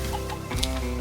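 Chickens in a farm coop cluck softly among a steady hum of background noise, with a few brief calls rising over the murmur.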